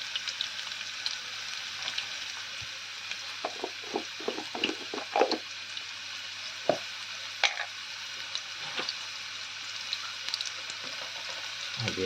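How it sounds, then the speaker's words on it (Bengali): Potatoes sizzling in hot oil inside a pressure cooker with a bay leaf, a steady soft frying hiss with scattered crackles and the clicks of stirring, fairly quiet and close. "আর আলুগুলো ফ্রাই করে নেবো"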